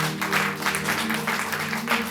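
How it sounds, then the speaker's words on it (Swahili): A church congregation claps during a worship service, producing dense, continuous applause in pulsing waves over a low sustained musical tone. "Jipigie makofi mengi juu kwa ajili ya ibada ya siku ya leo."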